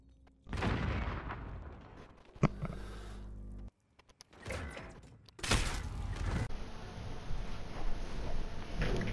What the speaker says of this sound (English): Oh no, my grenade.